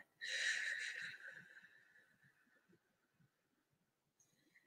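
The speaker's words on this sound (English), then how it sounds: "take another deep breath in and let that out" A single deep breath is taken and released up close, a long airy exhale that starts strong and trails off, with faint background sounds afterward.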